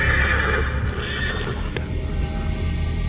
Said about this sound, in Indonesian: Nah udah situ ada suara kuda